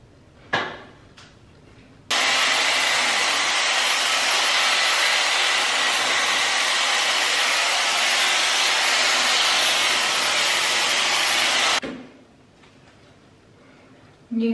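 A Dyson hair dryer runs as a steady, loud broadband whoosh for about ten seconds, starting and cutting off abruptly, with brief handling noises before and after.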